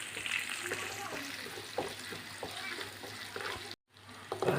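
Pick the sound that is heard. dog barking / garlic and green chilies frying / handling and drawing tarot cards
garlic and green chilies frying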